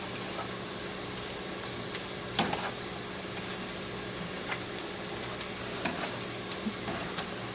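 Liver (kaleji) fries in a pan and gets stirred, giving a steady low sizzle with a few soft utensil scrapes and taps scattered through it. The sounds are close and fairly quiet, and nobody speaks.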